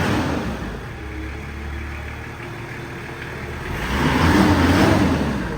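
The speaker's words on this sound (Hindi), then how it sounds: "Original engine, roaring." A Toyota car with its original engine runs just after a half-charged self start, a steady idle with a rough rumble that swells louder toward the end, with no talking.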